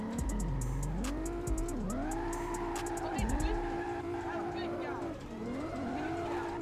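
A car drifts at a drift event in the Roblox video game: the synthetic engine rises and falls in pitch as it revs, with tyre squeal mixed in, held steady and fairly quiet throughout.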